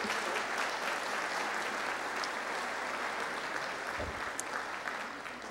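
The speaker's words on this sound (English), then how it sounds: "Pat Glass, yes, you can applaud" An audience applauds at a tribute event honouring a former county commissioner: dense, steady clapping that carries evenly at full strength throughout.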